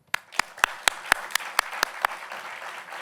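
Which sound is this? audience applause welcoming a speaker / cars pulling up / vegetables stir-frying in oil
audience applause welcoming a speaker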